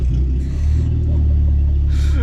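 The heavily rebuilt, fast family car starts up with a loud, deep engine rumble that holds steady and close throughout.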